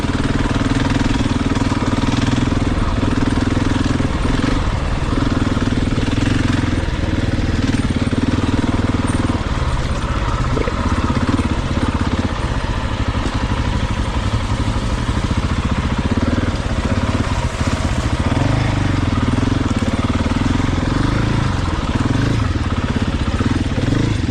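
A Husky 701 dual-sport motorcycle engine runs continuously as the bike rides through a rocky creek bed, with a loud, close, rumbling drone that rises and falls with the throttle and a brief mid-clip change, and no talking.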